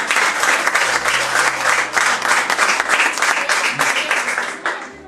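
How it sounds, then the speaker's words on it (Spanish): Church congregation at a Spanish-language service bursts into steady, dense applause that fills the room for about five seconds before tapering off. "Denle un fuerte aplauso al Señor."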